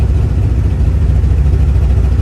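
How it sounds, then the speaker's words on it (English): A 1970 Chevrolet Chevelle's engine idles steadily and loudly, its deep, even exhaust rumble filling the close space without any break. "Let me lower the exhaust here."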